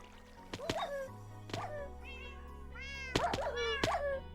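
Cats meow repeatedly in a video game, several distinct calls rising and falling over steady background game music and low hum, with brief thumps between meows.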